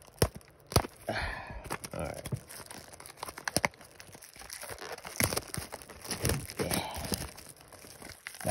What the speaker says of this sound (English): Use these pair of scissors real quick.